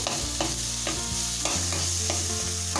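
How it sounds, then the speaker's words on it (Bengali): Meat being stirred and fried with ginger and garlic for momo filling: steady hot-oil sizzle with repeated scraping strokes of a spoon in the pan, close and continuous, no voices. "ভালো করে আদা রসুনের সঙ্গে একটু নেড়ে নেবো, মাংসটা ভেজে নেবো"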